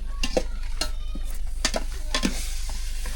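Pork pieces being stir-fried in a pan over a wood-fired stove: intermittent scraping and clattering stirs over a low, steady sizzle and hum, close by, with no talk.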